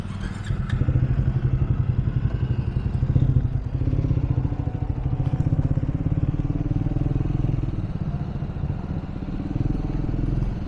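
A Jawa motorcycle pulls away from a petrol pump after refuelling, its engine thumping in a steady, loud idle-to-roll rhythm with mechanical clatter throughout, close by and without speech.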